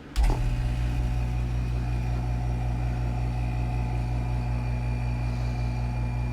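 A vacuum chamber pump degasses melted plastic for making soft fishing baits, starting with a short clunk and then settling into a steady, even mechanical hum that stays constant throughout.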